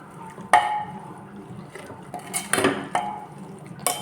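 Spinach is stirred into a lentil curry in a pot, with soft, scattered clinks and scrapes of a utensil against the pot, fairly quiet and irregular, no voices.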